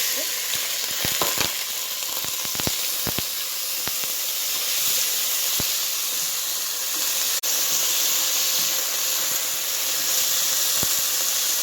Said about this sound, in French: Une fois l'huile est bien chaude, prenez votre viande, vous la renversez.